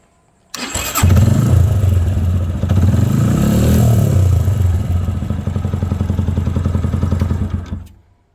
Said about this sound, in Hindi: हल्का सा सेल्फ देने पे बाइक ज़बरदस्त तरीके से स्टार्ट हो चुकी है